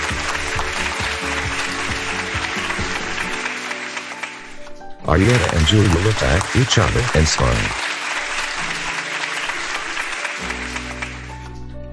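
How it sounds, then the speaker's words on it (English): A church congregation rises and applauds, steady clapping under a narrator's voice, with background music and a brief pause partway through. "Everyone in church stood up and clapped."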